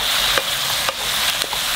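Shrimp with a big handful of green onion, cooked with black pepper and garlic, stirred in a pan: a steady soft sizzle with a few light utensil scrapes at irregular intervals.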